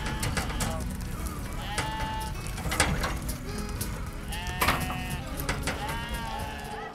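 Sheep and goats bleat repeatedly at a busy livestock market in Kashgar, Xinjiang, with overlapping calls near and far over a constant crowd murmur.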